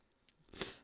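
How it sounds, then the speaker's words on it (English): A single short sneeze bursts out after a brief intake of breath, close and fairly soft. "I got the sneezes."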